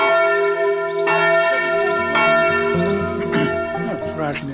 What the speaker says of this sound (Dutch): Dit is de klok van de kerkklok.